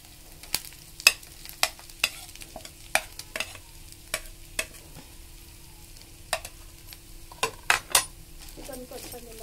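Chicken frying with onion, ginger, garlic and chopped green chili is stirred in a pan. A low sizzle runs underneath while sharp clinks of the spoon against metal repeat at irregular intervals, close and clear.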